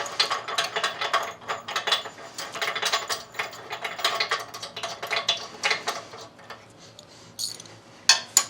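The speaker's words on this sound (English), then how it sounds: "we'll need our pin and a ratchet, in this case a 19mm, to actually screw this in" A ratchet with a 19mm socket tightens the pin of a Hyperax 2-inch hitch swing adapter, giving close, rapid clicking in repeated bursts with short pauses between strokes.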